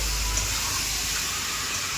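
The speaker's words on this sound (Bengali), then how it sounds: "এই যে মাংসটা কষানো হবে, দেখতে পাচ্ছেন ভালোভাবে মাখিয়ে নিচ্ছে মশলাগুলো।" Meat being sautéed with spices in a pan, a steady close hiss of steam and sizzling that holds evenly throughout with no voices.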